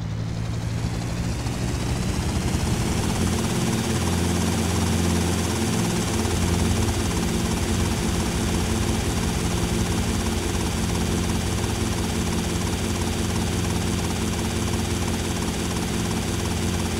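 A white helicopter in GTA Vice City hovers and flies, its rotor beating in a dense, continuous, loud throb with a high turbine whine that rises early and then holds steady, with no voices.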